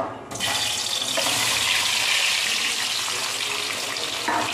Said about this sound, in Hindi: आलू को कर लेंगे फ्राई।